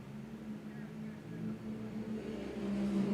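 Side-by-side race cars, Can-Am X3 turbos and a shaft-driven Honda, pull off the start line at a Texas off-road heat, their engines droning and rising in pitch, heard from a distance with a steady rumble.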